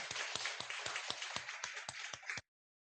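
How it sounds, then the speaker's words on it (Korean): At a special prayer meeting, about ten evenly spaced claps ring out in a steady beat, fairly faint, before cutting off abruptly into silence. "우리 천상의 참 아버님 큰 박수로 한번 보내주시면 좋겠습니다."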